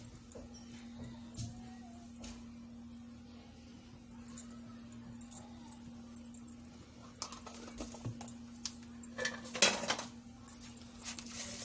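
Salad being tossed with black salt and chaat masala, soft scraping and clinking of utensil against a bowl, quiet at first and growing busier and louder toward the end, with a hum underneath.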